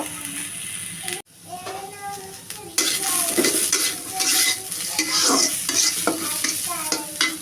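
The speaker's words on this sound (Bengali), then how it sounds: "হালকা ভেজে নেব" Garlic, onion and green chilies sizzle in hot oil as a spoon stirs and scrapes the pan repeatedly, close by, with a voice speaking briefly over it.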